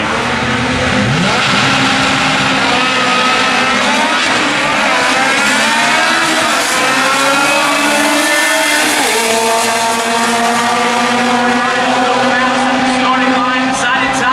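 Drag racing cars at N.C. Dragway, a Honda Civic among them, launching and accelerating with loud, rising engine roars and shifting pitch, close and continuous, while an announcer talks over them.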